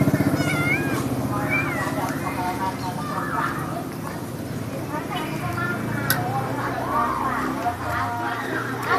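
A cat meows repeatedly, high and wavering, close by, over steady background noise and some talking.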